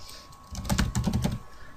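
Fingers type on a computer keyboard in a quick burst of close, crisp key clicks after a short quiet start, then a few more scattered taps.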